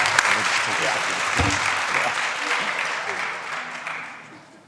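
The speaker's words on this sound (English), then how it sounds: "Let's give her a big round of applause." Applause from an audience at a college spring honors night, fairly loud and steady at first, then gradually tapering off, with some voices audible within the crowd.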